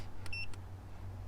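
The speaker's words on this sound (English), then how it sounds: "I think you're supposed to crank it whilst it's beeping." A jump starter on a Mercedes Sprinter van sounds two short, clear electronic beeps in quick succession during its discharge countdown, over a low engine-like hum.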